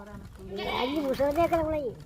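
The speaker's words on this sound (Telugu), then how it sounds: "ఏం లేవు కొత్తవే మేకలన్నీ" A newly bought goat lets out one long, wavering bleat close by, with people's voices in the background.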